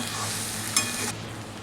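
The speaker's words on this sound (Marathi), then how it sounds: "शेंगदाण्याचं कूट सर्व मिक्स करूया याच्यात." Chigal leafy vegetable curry with crushed peanuts is stirred in a pan over a low, steady sizzle, with one sharper scrape midway before the bright hiss drops away near the end.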